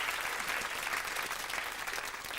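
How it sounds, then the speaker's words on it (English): A studio audience claps steadily and loudly for the full length, a dense even wash of applause at a UK variety show starring a one-foot-tall teddy bear puppet. "I think that deserves a round of applause"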